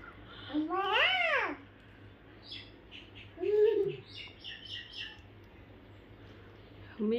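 A talking parrot eating papaya gives loud rising-and-falling squawks and short chirpy calls close by, with quieter babble-like mimicry in between and a person's voice briefly nearby.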